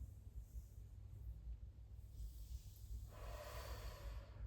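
A deep exhale during a chest-opening breathing exercise, a soft breathy rush that swells near the end, heard close with low background hum and no talking.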